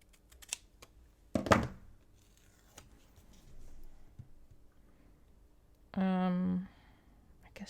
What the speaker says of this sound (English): So let me cut this off.